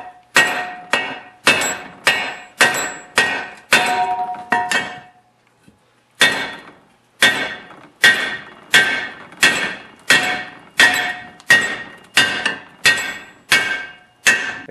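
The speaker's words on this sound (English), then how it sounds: "then try to pound it out" Steady hammer blows on a bolt used to pound out a seized snowblower impeller shaft, sharp metallic strikes at a regular pace with one brief pause, close and loud.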